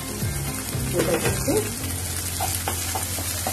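Carrot and onion frying in a pan for vegetable masala Maggi, a close sizzle with a few stirring knocks early on, a low steady hum underneath and light sizzling continuing to the end.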